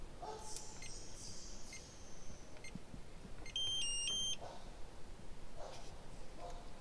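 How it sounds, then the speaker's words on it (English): Beeps from a keyless entry keypad door lock being installed on an RV door, a short cluster of bright electronic tones near the middle, heard close over a steady background hiss. "So it beeps twice to let us know we had the right code."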